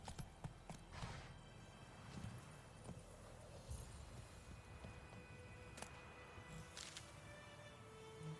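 Hooves of Roach, the horse in The Witcher 3, clopping in a steady rhythm at a modest level, with a few sharper knocks and ambient game sounds around them, no talk.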